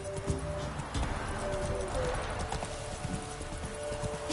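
Roach the horse galloping in The Witcher 3, a quick, steady run of close hoofbeats on the ground, with a brief snort or whinny mixed into the continuous clatter.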